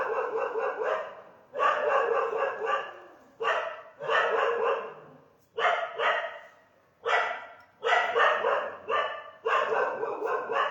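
A dog barks repeatedly, about eight loud, close bursts in a rough rhythm, each run of barks separated by short quiet gaps, with no one talking.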